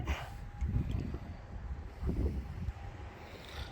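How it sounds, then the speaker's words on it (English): Gusty wind buffeting the microphone in low rumbling bursts, rising and falling over a few seconds with a faint tone underneath. "sorry about the wind"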